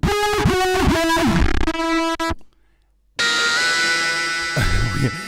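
Music run through a heavy distortion effect, gritty and buzzing, cuts out into a second of near silence, then returns with a harsher distorted tone.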